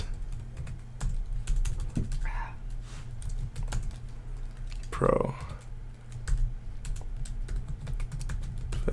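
Keys clatter in quick bursts on a computer keyboard as a real estate guide is filled in online, the tapping running steadily beneath a voice that speaks briefly.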